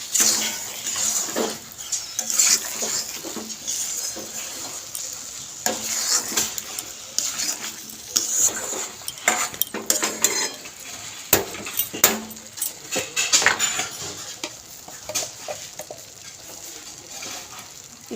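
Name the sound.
stirring sugar into taro curry in a pot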